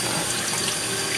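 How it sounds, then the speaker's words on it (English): Tap water runs steadily over a makeup brush being rinsed at a sink, a continuous close hiss of flowing water with no voices. "Sometimes I'll go and run it underneath the water just to see if it's running clear."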